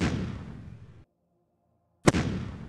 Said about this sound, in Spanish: Ataque. Con nuestra artillería.